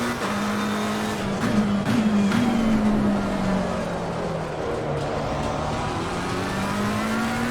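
A race car laps Donington Park in the sim racing game Assetto Corsa Competizione, its engine droning steadily at close range with rising and falling pitch as it shifts and holds revs, with tire and wind noise underneath.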